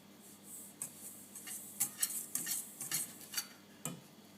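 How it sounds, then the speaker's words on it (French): A whisk stirs dry cake ingredients for an apple fondant, including flour, baking powder and vanilla sugar, in a bowl, giving close, irregular metallic clicks and scrapes against the sides with no one talking. "Je mélange le tout à l'aide d'un fouet"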